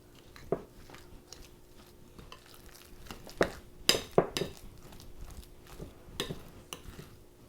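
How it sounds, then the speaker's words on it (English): Veggie spread being mixed with lemon juice in a bowl, soft scraping and stirring with sharp clinks of a utensil against the dish, quiet and irregular. "I'm going to squeeze the juice, just about a tablespoon, and just mix it all together."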